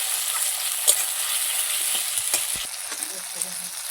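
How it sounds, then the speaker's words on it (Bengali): Cumin paste and ginger paste frying and being stirred in a pan for a pumpkin greens dish, a steady bright sizzle with a few soft scraping knocks from the stirring spoon. "এবার একসঙ্গে মশলা মিশিয়ে নেব"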